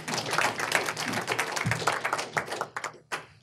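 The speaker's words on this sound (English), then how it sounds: "Please give a big round of applause to Jake." A conference audience applauds a speaker steadily, dense clapping filling the room for a few seconds before thinning out into scattered claps near the end.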